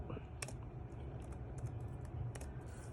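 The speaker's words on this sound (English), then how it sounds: "So over here we're just going to type left" Light keystrokes on a computer keyboard while entering a spreadsheet formula in Excel, a handful of quick faint clicks in small bursts over a soft background hum.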